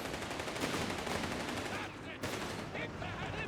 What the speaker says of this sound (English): Setting up that heavy machine gun.